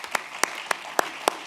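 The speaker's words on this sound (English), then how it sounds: "I appreciate the applause" A few sharp, evenly spaced claps from an audience at a talk on opioid recovery, five distinct bursts at moderate level with quiet gaps between them and no voices.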